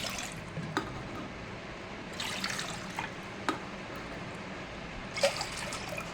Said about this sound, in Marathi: त्याकरिता बघा मी 3 वाट्या पाणी घेत आहे.